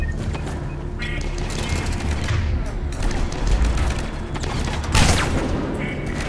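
Grenade blasts and gunfire rumble through a Mass Effect firefight, with dense low booms and crackling shots running throughout and a sharper burst near the end.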